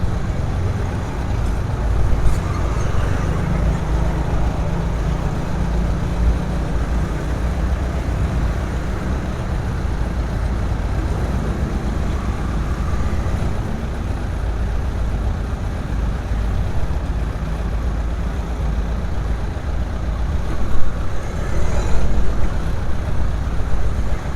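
A heavy dozer pushes earth at a roadside construction site in front of a village office, giving a steady, loud diesel rumble and grinding drone that holds for the whole stretch with a slight surge near the end.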